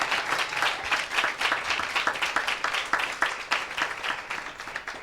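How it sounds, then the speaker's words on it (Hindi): A church congregation claps loudly together during a Hindi-language healing service, a dense crackling burst of many hands with rhythmic peaks, steady and close for about five seconds. "एक जोरदार ताली प्रभु यीशु मसीह के नाम को दें।"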